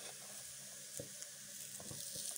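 Savory pastries filled with tuna and cheese fry in a pan with a steady, close sizzle, joined by a few soft pops and spatters as pieces are turned.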